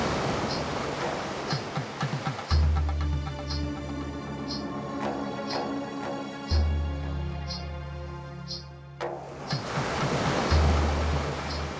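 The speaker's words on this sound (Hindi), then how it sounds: "समुद्र की ऐसी लहरों पर सेतु बनाना संभव है राम" Sea waves surge and crash in broad, loud washes that swell and recede, with music-like tones layered over the rolling surf throughout.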